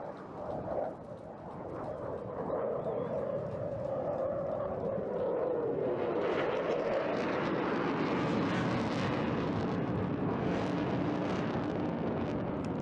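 A Eurofighter Typhoon jet at an air show roars loud and continuous as it flies away, a broad rushing engine noise with a falling pitch sweep, sustained throughout with no voices over it.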